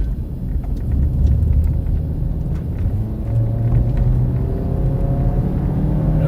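A car driving on a rural road in southeast Colorado while storm chasing, making a right turn: a loud, steady close-up engine rumble and road noise with a slight rise in pitch partway through.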